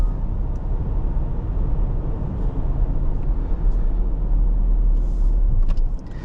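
A 2023 Dodge Durango R/T Blacktop with a 5.7L Hemi naturally aspirated V8 drives on, giving a steady low engine drone with road noise from inside the cabin and rising slightly toward the end.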